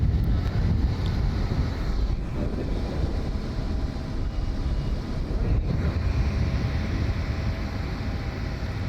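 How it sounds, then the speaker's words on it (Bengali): A trawler motors past on Hatirjheel lake in Dhaka, heading toward Gulshan, its steady low engine drone continuous and loud, mixed with wind buffeting and water noise. "পাশ দিয়ে একটা ট্রলার চলে যাচ্ছে গুলশানের দিকে।"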